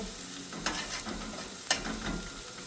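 Dasheen bush leaves cook in hot oil, giving a continuous close sizzle with two brief louder scrapes or crackles.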